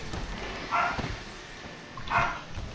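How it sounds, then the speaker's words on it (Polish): A dog barks twice, with a pause between the two short woofs, against quiet background noise in a Kung Fu Panda game. "a mój pies szczeka"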